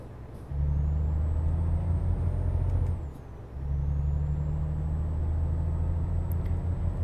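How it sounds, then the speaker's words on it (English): A Volvo truck in the video game Euro Truck Simulator starts up with a deep, steady diesel idle that cuts briefly, then resumes, with a high whine above it and faint air-brake hiss, no talking. "Right, let's start the truck,"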